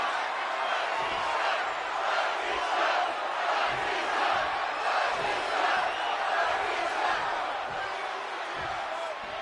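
Dense arena crowd noise from a WWE 2K26 wrestling video game match, a steady roar of cheering and chanting from the WWE Universe that fills the whole stretch without letting up.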